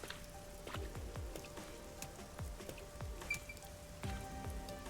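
Rain falls steadily on a city in the video game Master Detective Archives, a soft patter with scattered drips and a faint tonal hum beneath.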